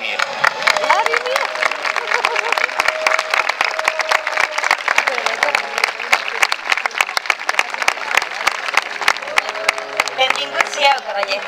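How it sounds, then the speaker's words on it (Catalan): Loud crowd applause with dense clapping and some cheering and background chatter, sustained and close throughout. "Un fort aplaudiment pel gran Vladimir"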